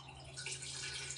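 Hot water pours from an electric kettle in a steady, hissing splash with a faint low hum beneath, close and fairly quiet throughout the short stretch.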